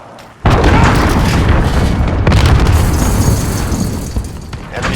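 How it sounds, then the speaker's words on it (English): Cruise missile explosion in a Call of Duty match, a sudden loud boom followed by a long rumbling, crackling roar that slowly fades over several seconds. "Enemy cruise missile."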